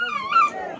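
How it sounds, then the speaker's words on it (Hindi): Desi dogs fighting: one sharp, high-pitched whining yelp, close and loud, lasting under a second. "कुत्ता लड़ाउन लगे यार"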